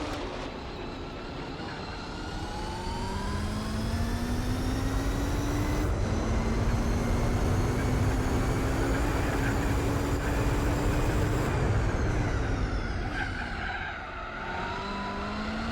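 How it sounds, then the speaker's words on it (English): Gran Turismo 4 race cars roaring in arcade mode, a steady loud engine drone with rising and falling gear-shift whines, one car sliding toward a crash near the end. "but now I'm gonna crash"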